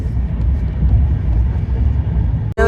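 A passenger train travelling past hills on a journey to Pune, heard as a loud, steady low rumble and rattle from on board, broken by a sharp brief dropout just before the end.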